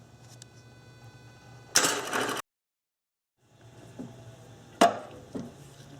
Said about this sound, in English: just crank it for a split second, and it will loosen up that bolt